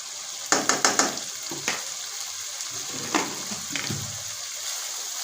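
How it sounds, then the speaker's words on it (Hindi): Spices for a mutton kofta curry fry in a pan with a steady soft sizzle, punctuated by a quick run of sharp clinks and scrapes from stirring, then a few more scattered taps against the pan. "ऐसे उसे भून लेते हैं 2-3 मिनट के लिए। मसाले को अच्छा सा भून लिया"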